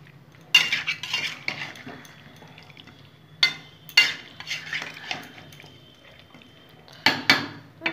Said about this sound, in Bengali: এখানে ভেজে রাখা আলু গাজর এগুলো দিয়ে দিলাম, দিয়ে আমি একটু কষিয়ে নেব